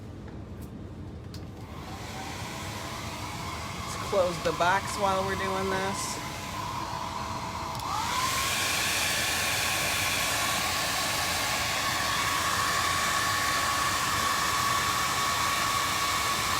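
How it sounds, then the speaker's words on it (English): A hair dryer blows steadily on wet acrylic paint during a pumpkin painting session, switching on partway through and running as a loud, continuous rushing whoosh, with someone speaking briefly before it starts. "wiping off my brush and hit it with the dryer."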